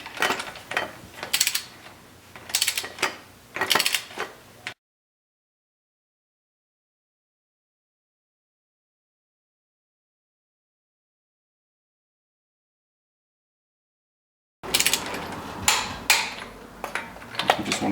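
A torque wrench ratchets as it tightens wheel bolts on a 2000 Toyota 4Runner, giving several close bursts of rapid clicking, then a long stretch of silence before more clicking resumes.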